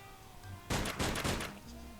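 Rapid video game gunfire aimed at Swiss cheese in Sam and Max Save the World, a loud close burst of several shots over under a second, with quiet background tones before and after.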